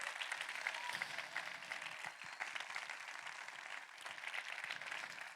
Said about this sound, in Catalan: feu un fort aplaudiment a aquestes noies